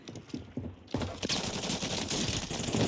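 Rapid gunfire bursts from Call of Duty on Rebirth Island, sparse shots at first, then a dense, sustained volley of close automatic fire with almost no talking.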